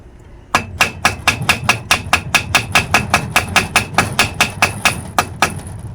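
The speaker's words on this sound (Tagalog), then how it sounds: "Pupukin lang ito ng martilyo o matigas na bagay para matanggal siya." Rapid, evenly spaced metallic hammer taps knocking an old gasket off an engine, about twenty in a row, sharp and close, ringing slightly on each strike.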